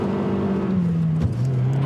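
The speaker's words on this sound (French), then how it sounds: "on va faire un 0-100 km/h avec la Mazda Speed 3, une voiture qui développe 263 chevaux" A 2007 Mazdaspeed3 with 263 horsepower pulls hard from a standstill, its engine note climbing steadily, then dropping briefly at a gear change before rising again, loud and close, with no talk.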